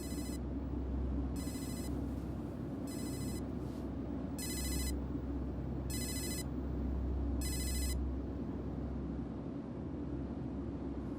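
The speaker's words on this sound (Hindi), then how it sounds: "तुम्हें बार बार किसकी कॉल आ रही है" A mobile phone rings with an incoming call, six evenly spaced bursts of an electronic ringtone repeating over a steady low background hum, with no one speaking.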